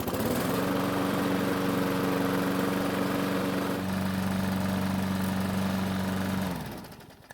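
A Weedeater lawn mower engine, just repaired with a new primer bulb, runs steadily at a droning idle with a slight shift in pitch midway, then cuts off and falls silent near the end.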